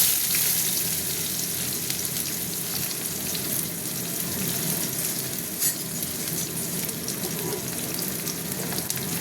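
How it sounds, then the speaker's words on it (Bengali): Onions fry in a hot wok with cumin seeds, a loud continuous sizzle with faint stirring scrapes throughout. "পেঁয়াজটা একটু ভাজা ভাজা হবে"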